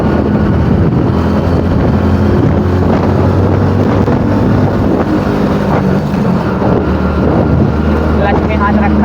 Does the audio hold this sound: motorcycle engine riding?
yes